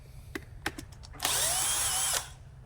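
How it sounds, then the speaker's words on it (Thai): An electric drill spins for about a second, driving out a Phillips screw from a chainsaw being taken apart, with a few sharp clicks of handling just before it. "เดี๋ยวผมใช้เป็นสว่าน ยิงครับจะได้เร็วขึ้นเนาะ"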